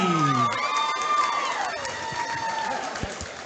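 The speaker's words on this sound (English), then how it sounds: "How about a round of applause for your ring card girl, Jamie?" At a kickboxing event, a crowd cheers and applauds, with whoops and shouts rising over a steady wash of clapping; a brief whistle-like tone drops away early on.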